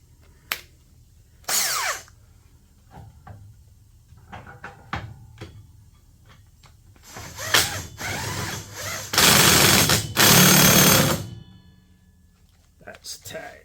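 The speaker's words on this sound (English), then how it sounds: "Come on, socket, go on now." A socket wrench works on engine mount bolts of a John Deere LT150 lawn tractor: irregular ratcheting clicks, clanks and metallic handling, with a few longer loud bursts, while people talk nearby.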